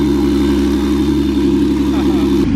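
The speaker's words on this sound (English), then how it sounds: "The loudest car ever." A loud 13B rotary engine with a missing apex seal idles roughly and steadily with a deep rumbling drone throughout, then briefly changes near the end.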